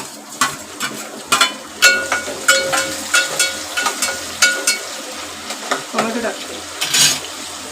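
Tomatoes tossed into a pan of browned onions for a spicy Marathi chicken curry sizzle steadily, with repeated sharp scraping and clanking of a spoon against the pan in an uneven rhythm throughout.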